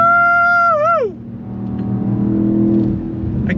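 A 2025 BMW X6 M Competition engine revs hard, a rising harmonic whine toward the 7,000 RPM redline that drops off abruptly, followed by a low rumbling of the car in motion.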